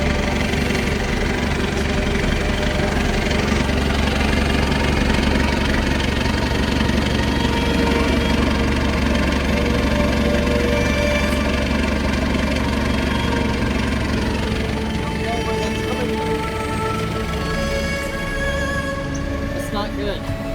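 A sailboat's inboard engine idles steadily with a low, continuous rumble, with a voice speaking over it near the end.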